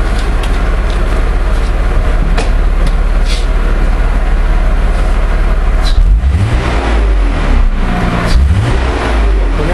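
A car engine fitted with an HHO hydrogen generator runs loud and close with a steady drone, then revs up and down in rising and falling sweeps.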